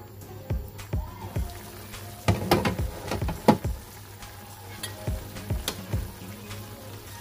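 Assorted vegetables with quail eggs sautéing in a pan, a close steady sizzle broken by repeated clattering stirs and scrapes of the utensil against the pan.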